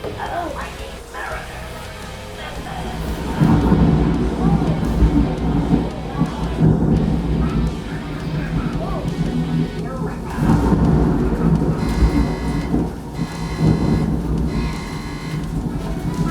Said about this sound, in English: you already hear it starting to rain